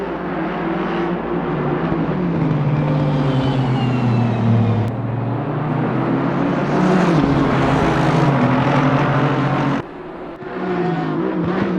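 GT3 race cars in Assetto Corsa Competizione racing at the Nürburgring, engines droning loudly and steadily under hard acceleration down a straight, with pitch shifts at gear changes and one brief dip near the end.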